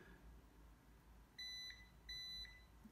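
Two short electronic beeps from a Klein Tools MM300 manual-ranging digital multimeter in continuity mode, each lasting about a third of a second and fairly loud and close, sounding over a faint background hiss.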